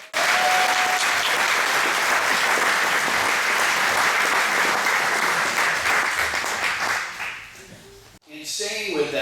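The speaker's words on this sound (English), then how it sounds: "if you'll give a round of applause for Matt Holt" A banquet crowd at an athletic hall of fame ceremony bursts into loud, sustained applause that fills the room for about eight seconds, then fades and stops briefly before another burst of sound resumes at the end.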